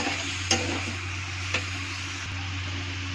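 Spices frying in a pan as turmeric powder is stirred in, a low steady sizzle with a couple of sharp utensil clinks against the pan over a constant hum.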